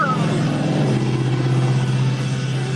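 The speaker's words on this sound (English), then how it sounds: "That was a loud car." Loud car passing by outside, a steady low engine rumble and road noise that stays strong throughout the short stretch without talk over it.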